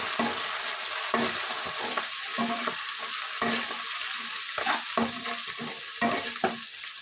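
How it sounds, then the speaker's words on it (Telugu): Fenugreek leaves and mint frying in a pan for Andhra desi chicken curry, a continuous sizzle broken by repeated rhythmic stirring scrapes, close and clear without talk. "మెంతి కూరను వేసుకుంటున్నాను దీనితో పాటే కొద్దిగా పుదీనాను కూడా యాడ్ చేసుకుంటున్నాను ఇప్పుడు వీటిని ఒక టూ మినిట్స్ వరకు బాగా వేపివ్వాలి"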